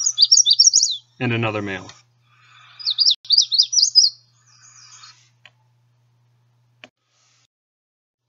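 Male warbler song, a close relative of the hooded warbler, rings out in quick, high, thin chirping bursts, repeated in several short phrases separated by pauses, with a voice speaking briefly in between.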